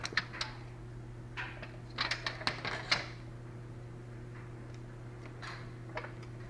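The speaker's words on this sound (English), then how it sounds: "Take your tape measure and measure the length." A tape measure pulled out along wood lath on a lath-and-plaster ceiling gives off quiet, dry ticking clicks in short rapid bursts, with a steady low hum underneath.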